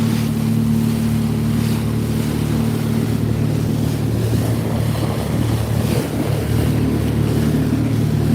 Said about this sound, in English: Waves are picking up.